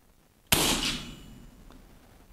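A single sharp crack from an FX DRS Pro air rifle fired prone, loud and close, with a brief ringing decay after the shot against near silence.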